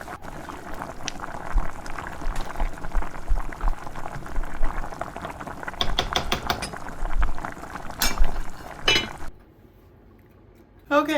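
Tuscan soup simmering in an uncovered pot while being stirred, a steady bubbling and liquid churn with clinks of the utensil near the end, then a brief near-silence.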